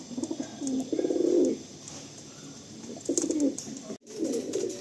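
Pigeons, a selected breeding set of red-headed and black-headed birds including Andhra-type males, coo in low throaty bursts, several repeated phrases close by with brief pauses between, over faint background chirps.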